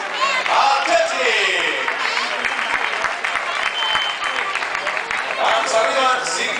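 Spectators applaud a runner crossing the finish of the Costa de Barcelona-Maresme half marathon in 2011, steady clapping and crowd noise under an announcer's voice throughout.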